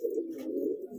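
A single soft, low pigeon coo, close by, lasting about a second.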